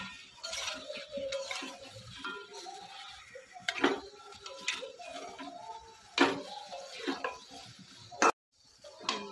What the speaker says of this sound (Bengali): মশলার ভিতরে আমি এখন আলুগুলো দিয়ে দেবো। ভালো করে কষিয়ে দিই।